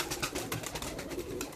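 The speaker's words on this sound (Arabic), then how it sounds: "شوفوا شوفوا الفحل كذلك، طيور قوية" Pigeons on a rooftop give soft, low cooing calls in a short, faint burst over quiet outdoor background, with no talk.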